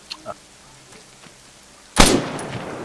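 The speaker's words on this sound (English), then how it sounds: "whether or not they're going to respond to the gunshot noise" A single sharp gunshot in a zombie survival video game cracks out loud and close, followed by a short decaying tail, after a stretch of quiet faint background noise.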